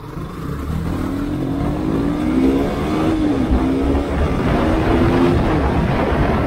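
A KTM RC 125 motorcycle being ridden, its engine droning steadily and rising in pitch as it accelerates, loud and close throughout.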